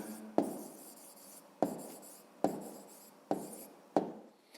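A pen writes an answer to a fifth-grade math exercise on paper, heard close and quiet as five distinct scratchy strokes, each one starting sharply and then trailing off.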